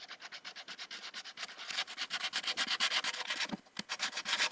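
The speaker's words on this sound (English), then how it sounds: "So the whole purple area is going to get wet sanded down." Paint is wet sanded off a helmet by hand in fast, steady back-and-forth rubbing strokes, close and continuous, with a brief pause near the end before the scrubbing resumes.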